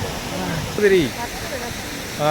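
Masila waterfall in the Kolli Hills roars steadily as a broad, continuous rush of falling water, with voices talking briefly over it.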